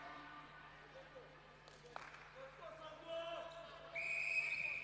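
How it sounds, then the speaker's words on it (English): An umpire's whistle starts a netball match between South Africa and Zambia at the Africa Netball Cup 2024 in Swakopmund, Namibia. It is a single sustained blast near the end, over arena crowd noise and commentary. "the whistle has started for the match that is between South Africa and Zambia"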